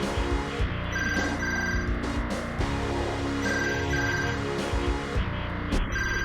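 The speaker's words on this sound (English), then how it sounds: "Oh, the phone is ringing." A telephone rings inside a video game, a repeating electronic ring pattern sounding steadily over layered game music and background tones, with no one talking.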